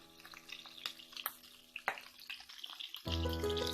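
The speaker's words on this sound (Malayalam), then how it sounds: "സവാളയും പച്ചമുളകും ഇഞ്ചിയും വെളുത്തുള്ളിയും എല്ലാം ഈ ഒരു ടൈമിൽ ചേർത്ത് കൊടുക്കാം" Onion, green chili, ginger and garlic hit a hot pan and start frying, a close steady sizzle that swells loudly near the end after scattered clinks and stirring noises, with no talking.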